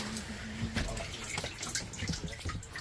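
A large arapaima fish lowered into a water-filled transport tub makes sloshing splashes and swirling water, with bursts of churning and dripping close by over a few seconds.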